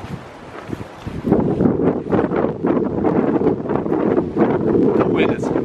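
Strong gusting wind buffets the microphone outdoors beside an abandoned 1895 one-room schoolhouse in Indiana, a loud continuous roar that swells after the first second and persists throughout.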